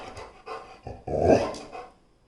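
A dog gives a few short, close barks and low growling grunts in a loose uneven rhythm, the loudest burst in the middle before trailing off.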